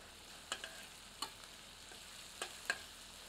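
Quiet, steady sizzle of onion, garlic and ginger frying in a pan over medium heat, with a few soft clicks of stirring scattered throughout.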